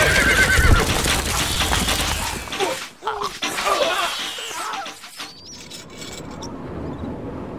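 A horse in the game Stronghold Crusader whinnies loudly over hoofbeats and a busy, dense background, then the sound thins out to quieter noise.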